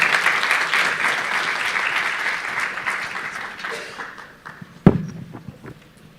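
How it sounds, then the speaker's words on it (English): An audience at a forum on displacement applauds a guest. The full clapping starts strong, thins and fades out after a few seconds, and ends with a single thump followed by quiet. "please a clap of applause for him"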